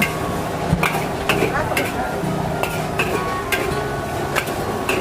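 Noodles for rad na stir-fried in a wok at a busy night-market stall, with steady clattering scrapes of a metal spatula and a soft sizzle, while a voice talks in the background.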